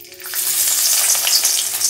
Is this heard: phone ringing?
no